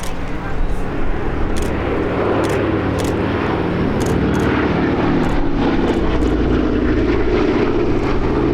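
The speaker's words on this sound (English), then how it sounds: "here we see the aircraft flying past with smoke on to simulate damaged engines" An aircraft flies past at the Abingdon Air and Country Show trailing display smoke, its engine drone swelling loud and broad across the whole stretch, with a commentator talking over the noise.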